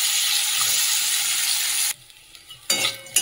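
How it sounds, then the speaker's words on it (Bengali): Bitter gourd pieces fry in a pan with salt and turmeric, making a loud, close, steady sizzle that cuts off abruptly, followed by quiet and then a short burst of frying noise. "উচ্ছেটা যে লাল করে একদম ভেজে নিয়েছি"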